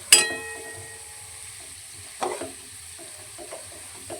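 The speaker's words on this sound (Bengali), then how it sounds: "একটু জাল কম দিয়ে ভাজছে" A low, steady sizzle of potatoes frying in a pan on gentle heat, broken by a couple of soft stirring clatters.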